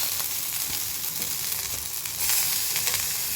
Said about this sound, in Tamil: இப்போ இதுவும் நல்லா வதங்கிக்கிட்டு இருக்கு.